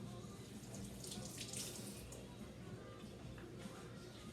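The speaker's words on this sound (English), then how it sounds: "Let me just wash this potato off." A potato being washed under a running kitchen tap, with a steady, faint stream of water splashing into a sink throughout and small shifts as it is rinsed.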